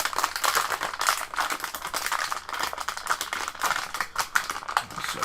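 Close crinkling and rustling of a plastic bag being handled, with irregular crackles and rattles continuing for several seconds.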